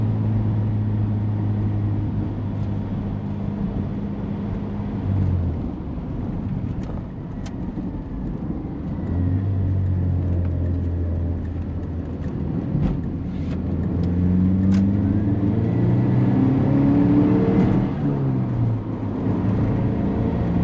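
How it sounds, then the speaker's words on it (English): A Chrysler Conquest TSi with a 4-cylinder turbo cruises on a highway at about 65 mph, heard from inside as a steady engine drone and road rumble, with the pitch shifting slightly and a few faint clicks, continuous throughout. "to drive this little 4-cylinder turbo, and here we are doing about 64, 65 miles an hour"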